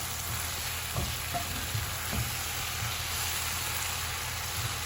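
Onions fry in a pan on the stove for a quick tempeh, plantain and cabbage meal, giving a steady close sizzle with a few soft stirring clicks and no talk.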